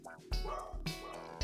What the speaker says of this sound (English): dogs are barking. Apologies about my dogs.